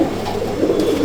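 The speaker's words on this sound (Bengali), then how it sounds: "আর এই পায়রা হাইট নিয়ে উঠবে" A Madrasi pigeon in a full loft gives a close, loud, continuous low cooing, heard alone without speech.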